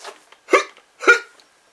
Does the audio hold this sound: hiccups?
yes